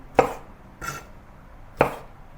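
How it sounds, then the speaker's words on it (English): A knife chopping baby corn diagonally on a board, three crisp separate cuts with short pauses between them, close and clear with no talking. "Baby corn cut diagonally into 2 or 3."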